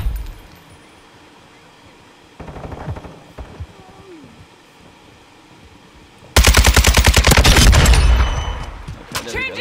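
Gunfire in Modern Warfare 2: a short burst of rapid shots around the middle, then a long, loud automatic volley near the end, over quiet game ambience with a faint voice.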